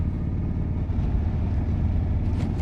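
An Indian motorcycle engine rumbles continuously while riding, with a steady low drone blended with wind buffeting, close and constant over a few seconds.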